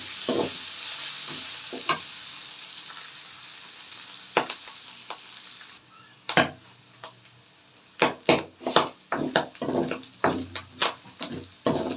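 Onion and garlic sautéing in a pan for adobong sitaw, a steady sizzle with clusters of sharp scraping stir strokes growing busier toward the end, close and fairly quiet.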